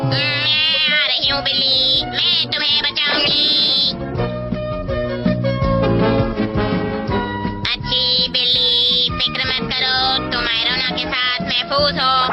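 Loud, busy cartoon music with bright synthetic meowing tones from a mechanical robot cat woven through it, continuous and layered for the whole stretch.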